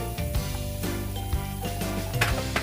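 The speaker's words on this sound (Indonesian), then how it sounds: "Selanjutnya kita goreng terasi yang sudah kita remas-remas dengan garam." Shrimp paste (terasi) mixed with salt fries in a pan, a steady loud sizzle with occasional scrapes and taps of a utensil against the pan, close up and without talk.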